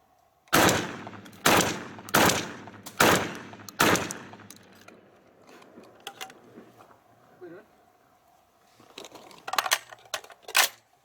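Gunshots ring out while a Sightmark Ultra Shot Pro Spec NV QD reflex sight is being tested: five sharp, loud, evenly spaced reports, a pause, then a quicker cluster of shots near the end.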